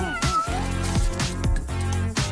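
A cat meows several times in a row, loud and close, with drawn-out, pitch-bending calls and no speech over them.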